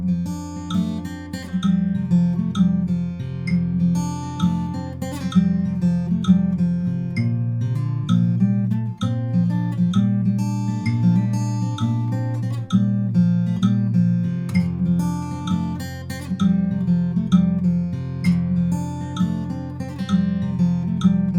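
Acoustic guitar fingerpicks the verse of a song at song tempo, a steady rolling pattern of plucked bass notes and treble strings, close and clear with no voice.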